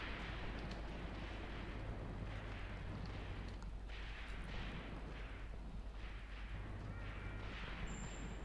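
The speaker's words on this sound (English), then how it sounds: "they have a lot of machine guns on that reverse slope" Machine guns and tank fire rattle across a Second Battle of Kharkov engagement in the war game Graviteam Tactics, forming a faint, dense, continuous roar of distant gunfire and blasts with no clear gaps.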